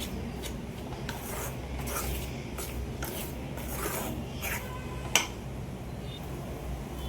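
Gram flour frying in oil in a pan while being stirred for besan barfi: soft, repeated scraping and rubbing strokes at a steady rhythm, quiet and close, with one small clink.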